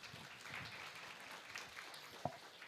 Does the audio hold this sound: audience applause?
yes